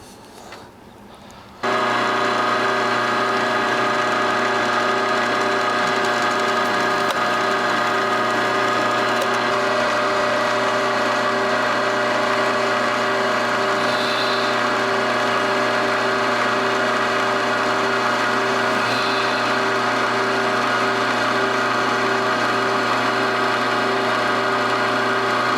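A milling machine in a workshop runs steadily while punching holes in a tool tray, a loud continuous motor hum and whine that starts abruptly after a brief quiet moment and holds unchanged throughout.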